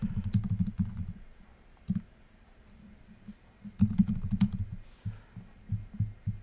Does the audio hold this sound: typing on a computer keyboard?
yes